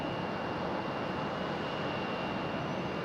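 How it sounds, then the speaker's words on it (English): A FedEx Boeing 767 jet arriving at Raleigh-Durham airport, a steady, loud broadband engine roar with a faint constant whine, no break or change across the moment. "FedEx 767 coming in from Memphis, Tennessee."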